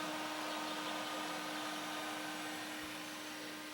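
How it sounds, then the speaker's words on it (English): A small electric fan running beside a new fridge, a steady soft whooshing hum with a faint tonal whine, even and unbroken throughout. "Still got my little fan going here"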